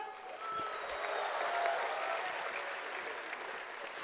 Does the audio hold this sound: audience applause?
yes